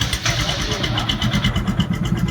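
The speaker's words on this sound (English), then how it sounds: "Engine नहीं चल रहा है." A Royal Enfield Himalayan fitted with a 471cc big bore kit sputters and churns near the microphone, its engine struggling and failing to catch, with a person talking over it.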